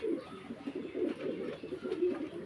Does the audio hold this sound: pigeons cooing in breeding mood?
yes